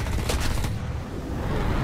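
Jet cannon on a JA-37C Jaktviggen fighter in War Thunder, firing as a dense, sustained burst that holds steady and loud across the whole stretch with no pauses.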